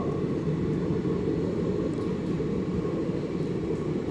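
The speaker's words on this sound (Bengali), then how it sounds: "ভদ্রক থেকে হাওড়া দিকে যাচ্ছে, মানে এটা উড়িষ্যা যাওয়ার ট্রেন।" An express train running from Bhadrak to Howrah passes through Panskura station, producing a steady, heavy low rumble that holds at a constant loudness throughout, without any voices.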